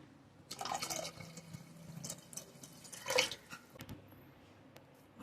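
Water pours into a cooking pot for urad dal rice with soft splashing and trickling in a few short bursts, fairly quiet and close.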